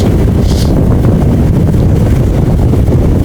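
Wind buffets the microphone in a steady, loud, unbroken rumble throughout, during a men's heavyweight collegiate rowing race between Princeton and Georgetown held in a headwind.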